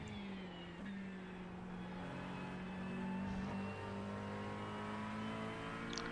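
A race-car engine drones steadily at Road Atlanta in a racing video game as an LMP2 prototype approaches, with its pitch shifting and a brief surge partway through, fairly faint and with no talking.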